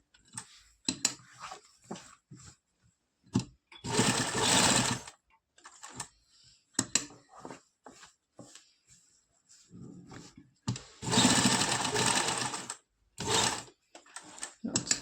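A sewing machine stitches the button placket on a collared kurta in two sustained runs of rapid, close mechanical whirring, with lighter clicks and handling taps between them and no talk.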